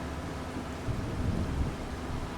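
Steady rain and a low rolling rumble of thunder in Farming Simulator 25, a continuous wash of hiss with a deeper swell near the middle, heard without any voices.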